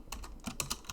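Quick, close typing of a command on a computer keyboard, a short run of about eight crisp key clicks in a fast, uneven rhythm with no voice.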